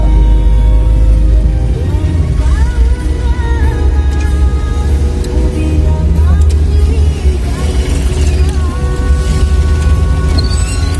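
Slow-moving road traffic in a jam in Jambi, a steady engine rumble with vehicles idling and creeping nearby, while people talk over it inside the car.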